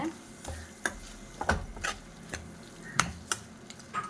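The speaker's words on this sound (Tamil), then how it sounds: "இப்போ எடுத்து வச்சுருக்க சிக்கனை போட்டுருவோம்" Chicken sautéing with ginger garlic in a pan, a soft sizzle under a run of distinct scraping stir strokes and light ticks, close and fairly quiet.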